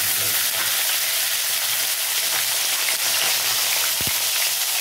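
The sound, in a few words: nigella seeds and green chillies sizzling in hot oil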